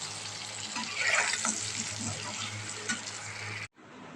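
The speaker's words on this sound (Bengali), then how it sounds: "এখানে আলুটা ভেজে নিচ্ছি" Potatoes fry in a pan with a steady, close sizzle and light stirring throughout, cut off abruptly near the end.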